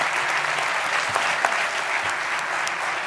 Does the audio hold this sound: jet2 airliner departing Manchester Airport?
no